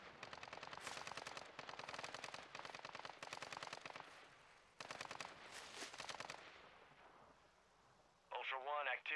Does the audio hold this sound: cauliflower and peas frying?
no